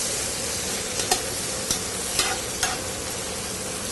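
Dried herbs simmer in oil in a pan while an Italian dish is cooked, a steady bright sizzle with a few soft stirring scrapes scattered through it and no talking.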